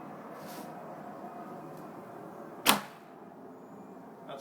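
A single sharp snap of a bowstring loosing a Carbon Express Heritage 250 arrow, crisp and close, over a steady low rumble of background noise.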